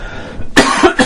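A single person's cough, close and loud: a couple of sharp bursts in quick succession over a quiet room.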